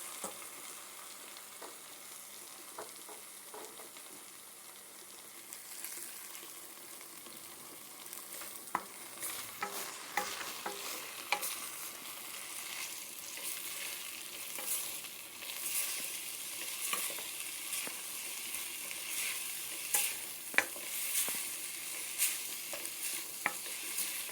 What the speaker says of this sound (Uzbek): Qovuramiz.